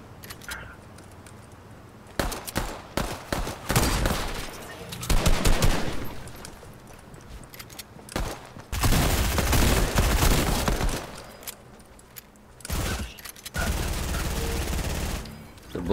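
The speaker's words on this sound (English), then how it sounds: "Pop a couple shots in the desk." Video game gunfire comes in loud bursts of rapid automatic shots, separated by quieter gaps, with several sustained volleys close to the listener.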